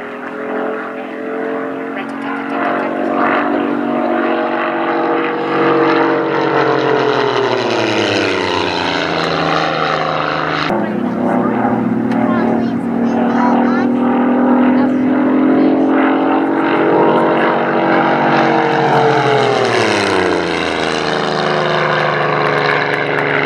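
Propeller aircraft powered by a supercharged V6 Nissan motor makes a loud high-speed pass at a warbirds weekend, its engine drone swelling and shifting pitch with a Doppler sweep, steady and prominent throughout.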